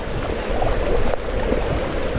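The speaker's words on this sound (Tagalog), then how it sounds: "ilog ng Mapita Aguilar." A river at Mapita, Aguilar, Pangasinan flows with a steady, close rushing and gurgling wash of water, continuous and fairly loud, with no talk over it.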